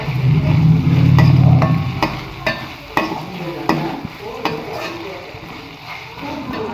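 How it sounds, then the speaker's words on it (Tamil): Tomatoes sautéing in a pan for chicken gravy, a close sizzle with a brief low rumble early on and several sharp scrapes and knocks of a spoon stirring, with no talk. "தக்காளியும் போட்டு நல்லா வதக்கலாம்."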